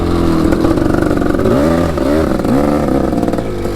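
A motorcycle engine revs up and down in several rising sweeps, loud and close, with a mechanical clatter running underneath.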